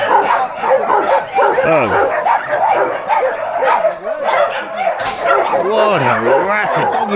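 Several shelter dogs bark, yip and whimper close by in a lively overlapping chorus, with a person's voice speaking briefly among them.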